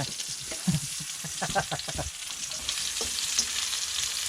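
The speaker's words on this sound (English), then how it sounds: "So I've got some mushrooms in here and some tomatoes." Mushrooms and tomatoes fry in oil in a pan at an outdoor camp, a soft continuous sizzle with light scraping stirs and small crackles, fairly quiet and close, no voices.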